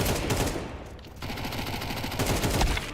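Dense, continuous game gunfire with rapid bursts of shots running the whole time, loud and close, with no voices.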